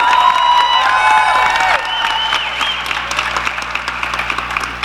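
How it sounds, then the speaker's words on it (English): Graduation ceremony crowd applauding teachers in a large hall: broad, continuous clapping with some cheering, loud throughout, while a sustained tonal sound at the start fades out partway. "I would like you to applaud all your teachers."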